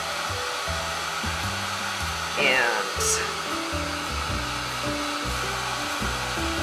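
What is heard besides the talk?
hair dryer drying paint on art cards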